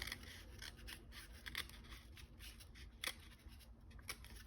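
Scissors trim paper around a cut-out for a beach-waves scrapbook overlay layout, a steady run of close, crisp snips with a few sharper cuts, no talking.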